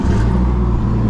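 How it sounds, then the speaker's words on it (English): A loud, deep exhaust rumble from an idling car engine, steady and close throughout the short stretch. "We're gonna fix his exhaust so it doesn't sound like that car."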